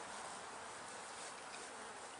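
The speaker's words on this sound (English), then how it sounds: "Bees are flying good." Honeybees flying around a hive outdoors on a sunny December day, a steady dense buzzing drone filling the whole stretch, close and continuous with no voices.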